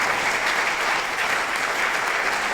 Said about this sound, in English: Everybody get a round of applause to Walter.